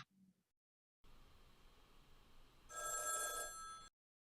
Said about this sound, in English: you'll hear the phone ring